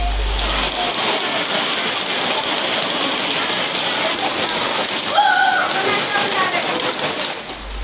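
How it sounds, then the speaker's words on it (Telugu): Heavy rain pours down with gusty winds in Secunderabad, Hyderabad, a dense, loud, continuous hiss of drops hitting surfaces, with a brief brighter splash or tone partway through. "సికింద్రాబాద్ పరిసర ప్రాంతాల్లో భారీ ఈదురుగాలులతో వర్షం పడింది."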